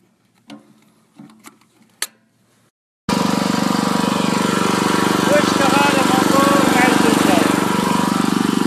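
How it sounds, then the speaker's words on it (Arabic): A petrol electric generator converted to run on gas starts up after a few faint knocks and runs steadily, a loud close buzzing drone with a voice faintly underneath. "شوف اشتغل الموتور مع الفلتر"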